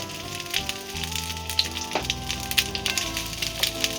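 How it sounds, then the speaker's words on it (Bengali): Onion frying in a spoonful of white cooking oil in a wok-style pan for cauliflower roast, giving a steady close sizzle with small crackling pops throughout. "সাদা তেল দিয়ে এবার আমি পেঁয়াজটাকে অল্প সামান্য ভেজে নেব।"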